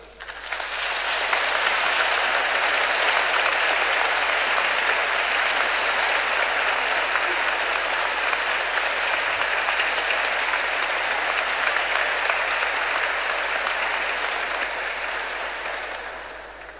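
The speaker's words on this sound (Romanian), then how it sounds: "Pentru acest lucru aș vrea să-i aplaudăm acum." Steady applause from a concert audience for a youth church choir and its conductor after a jazz Mass, dense and sustained throughout before tapering off near the end.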